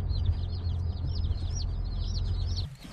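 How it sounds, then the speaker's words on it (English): Many small chicks chirp in rapid, high-pitched peeps, a continuous busy chorus close by over a low background hum. "Don't you hear all them chicks chirping?"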